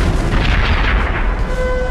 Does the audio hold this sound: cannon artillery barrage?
yes